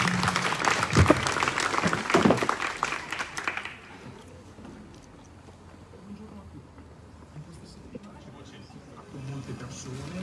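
Applause from a crowd at an election campaign closing rally in the Valle Olona area, loud and dense for the first few seconds, then fading into low murmuring room noise with voices.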